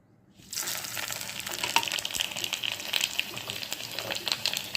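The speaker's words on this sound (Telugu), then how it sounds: "ఇప్పుడు నేను పోపు వేసేసుకుంటానండి. ఆవాలు, జీలకర్ర, ఎండుమిరపకాయలు, వెల్లుల్లిపాయలు" Mustard seeds, cumin, dried red chillies and garlic hit hot oil with a sudden burst of sizzling, then a steady, crackling fry with small pops continues loudly to the end.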